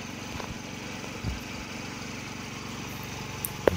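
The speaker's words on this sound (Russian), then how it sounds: "Сам трактор вообще на базе китайского бензинового двигателя одноцилиндрового." A homemade tractor powered by a Chinese single-cylinder petrol engine runs steadily nearby, a rapid, even putter with a couple of faint knocks and clicks.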